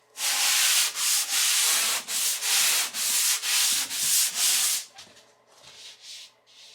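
Hand sanding a drywall repair to knock down a ridge, a run of steady, loud abrasive strokes in quick rhythm, close by, then easing into fainter, slower rubs.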